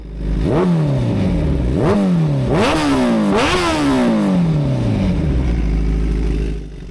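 A Kawasaki ZX-10R litre-class motorcycle engine revs hard and close, with repeated rising-and-falling throttle blips climbing in pitch and several quick sweeps over a loud, steady idle, no talking.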